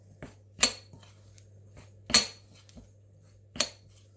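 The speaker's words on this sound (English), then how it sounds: "you mix it round with your metal spoon" A metal spoon mixes cheese straw dough in a bowl, giving three distinct loud clinks of metal against the bowl spaced about a second and a half apart, with softer scrapes between them, quiet otherwise.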